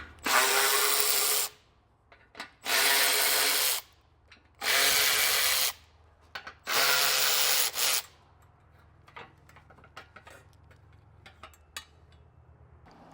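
A power drill backs out 7mm screws while a base plate kit is fitted to a 2021 Cadillac: four loud, close whirring bursts of about a second and a half each, then quiet handling clicks and rustles.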